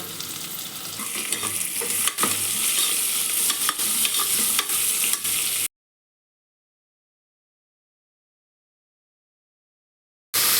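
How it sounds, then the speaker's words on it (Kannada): Steady hiss of beans, carrot, radish, capsicum, potato and curry leaves frying in tempering oil with light stirring clicks, cutting to silence for several seconds before the sizzle resumes. "ಈ ಒಗ್ಗರಣೆಗೆ ಹಾಕ್ಕೊಂಡು ಚೆನ್ನಾಗಿ ಫ್ರೈ ಮಾಡ್ಕೊತಾ ಇದ್ದೀನಿ"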